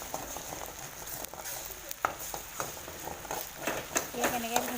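Dhekia greens (fiddlehead fern) stir-fried in a pan over a gas flame, giving a soft sizzle under repeated scraping and clattering of a spatula against the pan, close and fairly quiet.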